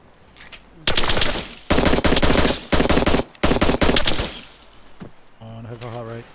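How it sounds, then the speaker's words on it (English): Automatic weapons fire in a close combat firefight in the video game ArmA 3, loud sustained bursts broken by short pauses, then quieter lingering sounds and a brief tonal noise at the end. "Suppressing fire."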